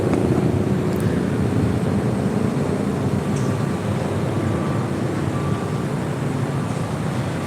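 A Southwest Airlines Boeing 737-700 arriving at LAX from Oakland, heard as a steady, loud broadband jet roar that holds through the whole stretch with no talk over it.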